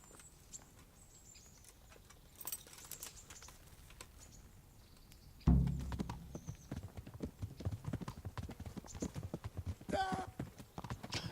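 A horse's hooves clip-clop in the medieval video game Kingdom Come: Deliverance; after a quiet stretch with faint ambience, a sudden thump starts a steady, close clopping rhythm that continues to the end amid light game sounds.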